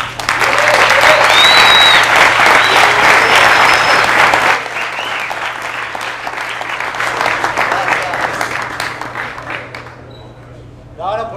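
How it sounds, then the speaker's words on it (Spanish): Audience at a talk on synthetic sound and electronic music machines bursts into loud, dense applause that thins out after a few seconds and trails off, with voices heard near the end. "Ya. Aplauso."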